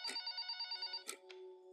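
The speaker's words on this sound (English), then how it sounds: "The phone in the cubicle rang." Trilling electronic rings from a cubicle desk phone, a long rapid warble followed by shorter bursts and a sustained tone, clear and close in an otherwise silent office.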